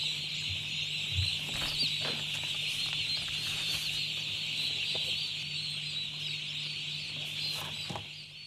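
Many chicks chirp continuously in a dense, high-pitched chorus, with a few louder peeps rising above the steady background.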